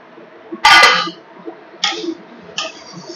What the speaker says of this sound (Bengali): এরপর ঢাকাটা খুলে দেখি।